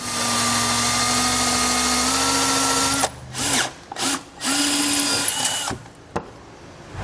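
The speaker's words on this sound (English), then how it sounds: "use this hole at the top of our mounting tab as a guide to drill through our bumper beam" A power drill bores a pilot hole through the steel bumper beam of a 2015 Jeep Cherokee, loud and close. A steady whine runs for several seconds, then breaks into stop-start bursts as the bit bites and releases.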